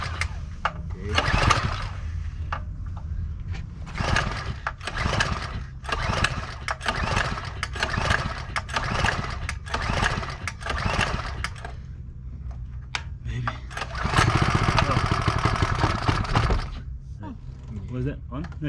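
A small engine on a sailboat, choke left on, sputters and catches in repeated rough bursts as it is started, then runs unevenly at a fast idle, with people talking over it.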